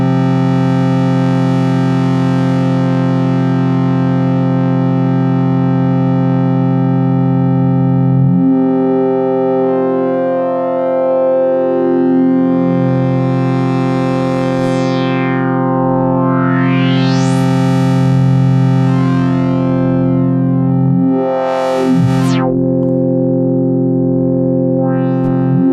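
Phase distortion synth tone from the Elastic OSC app on an iPad, a sustained harmonic-rich drone with sweeping, siren-like filter swoops and a distorted edge, loud and continuous without any talk.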